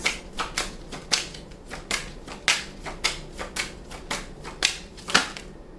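Tarot cards being shuffled and drawn, a run of about a dozen crisp snapping card sounds at an uneven, roughly half-second pace, close and fairly quiet.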